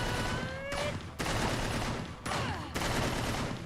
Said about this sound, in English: Just doing shooting twice and doing that.